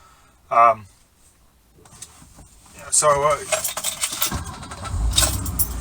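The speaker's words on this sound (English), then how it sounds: "The car now starts really nicely." A starter whirs briefly, then the engine of a 1981 BMW E12 catches and settles into a running idle, with a short jangle of keys and rattling before it.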